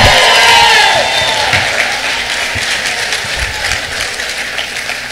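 A church congregation bursts into loud applause and scattered cheering during a preacher's sermon, the clapping sustained and dense throughout, with a voice briefly heard over it at the start.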